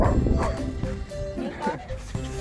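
A dog gives short yips and whimpers in quick succession, close by, with overlapping human voices.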